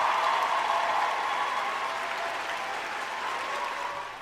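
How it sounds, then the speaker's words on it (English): Applause sound effect played during a show, a sustained wash of crowd clapping and cheering that holds steady and then tapers slightly toward the end, with no talk over it. "forgot a round of applause for it"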